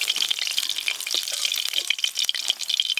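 Small mixed fish fry on a village clay stove with a dense, crackling sizzle full of rapid pops and spits, steady and close throughout with no voices.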